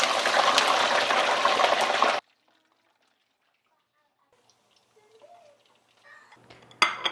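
Running water gushes steadily from a tap for about two seconds while yam and dishes are rinsed, then cuts off to near silence, followed by faint clinks and a brief louder clatter at the end.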